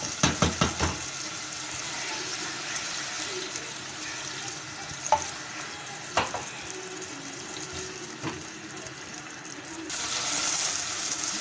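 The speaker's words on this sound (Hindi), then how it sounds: "मिक्स करने के बाद इसमें हम लोग 1/2 कप पानी ऐड करेंगे ताकि अच्छे से इसका मसाला बन जाए" Water is poured into a sizzling spice mix while sour eggplant bhujia cooks, with a few clinks of stirring before a rushing burst of liquid near the end over the steady hiss of frying.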